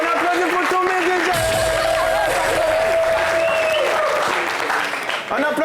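Audience applause and crowd noise fill a lively French evening entertainment show, broad and steady throughout, with music tones and a host's voice running over it.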